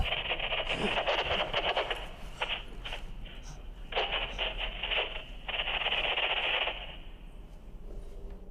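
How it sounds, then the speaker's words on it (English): Bursts of harsh radio static from a spirit box crackle and hiss in uneven waves, cutting in and out over several seconds. "Noises on these spirit boxes."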